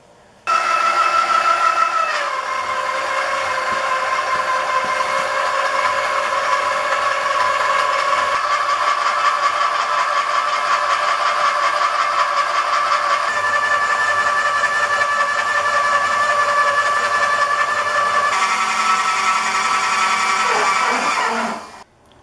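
A 1954 milling machine with a homemade cutter is machining a tool die for a power press, giving a loud, steady whine that holds for about twenty seconds. The pitch shifts a few times before the cutter spins down at the end.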